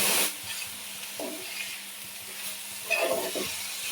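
Beto greens with onion, salt and turmeric sizzle and fry in a pan while being stirred, with intermittent scraping strokes and a steady soft hiss, close up and with no talking.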